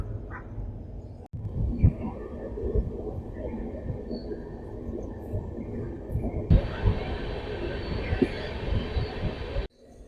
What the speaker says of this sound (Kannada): ನಮ್ಮ ಟ್ರೈನು ಯಶವಂತಪುರದಿಂದ ಡಿಪಾರ್ಚರ್ ಆಗಿದೆ